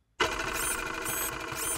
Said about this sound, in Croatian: Onda to ispišem na papir.